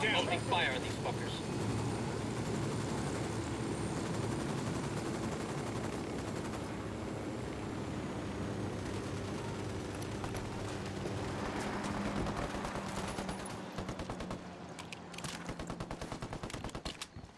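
Sustained video game gunfire, dense bursts of automatic shots rattling steadily under a droning score, with spoken voices running beneath throughout.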